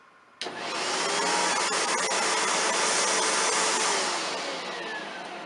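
A Rainbow vacuum cleaner switches on abruptly and runs with a loud, steady whooshing whine, its pitch shifting slightly as it keeps going.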